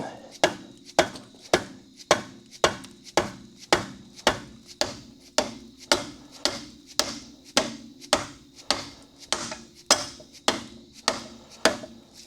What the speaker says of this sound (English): it's more or less rusted in place, so I'm going to use a rubber mallet